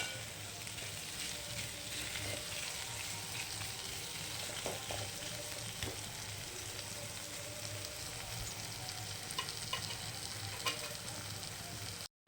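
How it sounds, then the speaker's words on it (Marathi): Okra sautés in a hot pan with coarsely crushed peanuts, a steady close sizzle and frying crackle with occasional stirring scrapes, running continuously at moderate volume. "आता 2-3 मिनिटं छान दाण्याचं कूट घातल्यावर असं परतून घेऊ"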